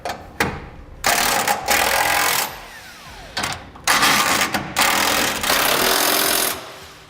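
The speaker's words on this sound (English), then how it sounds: "we'll use a 3/4 inch socket to begin tightening the 12mm bolts holding our frame brackets to the frame" Someone uses a socket on 12mm bolts that hold fifth wheel frame brackets to a 2016 Ram 2500's frame, producing several loud close bursts of mechanical whirring and rattling separated by short pauses.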